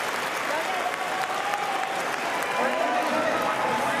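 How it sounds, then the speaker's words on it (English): Crowd applause and cheering at the Paris para powerlifting women's up to 45 kg final after a successful 108 kg lift, a sustained wash of clapping and crowd noise heard behind an announcer's commentary. "And a wonderful applause, wonderful celebration."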